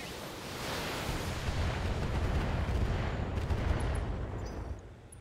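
Mech weapons firing in BattleTech, heard as a dense, rumbling barrage that swells and holds steady for a few seconds at a moderate distance before easing off.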